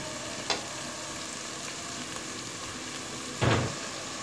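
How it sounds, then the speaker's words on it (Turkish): Steady sizzling hiss of onion frying in a pan, with a couple of brief louder bursts as it is stirred. "Hemen zaten ocağa attığımda soğan kavrulurken eriyor."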